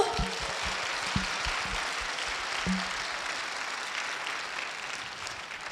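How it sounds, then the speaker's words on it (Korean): A church crowd applauding steadily after a high school group's performance, a dense wash of many hands clapping at moderate volume, with a few low thumps early on. "그럼 멋진 무대 보여준 고등부에게 큰 박수 부탁드릴까요?"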